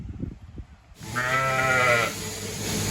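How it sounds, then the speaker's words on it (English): A sheep bleats on a farm during shearing, one loud, wavering call lasting about a second close by, after a few soft knocks and rustles. "Last sheep."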